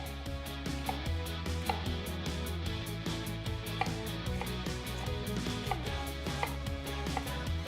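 A knife chops onion on a cutting board in a quick, even run of crisp close strikes over steady background music, with no voices.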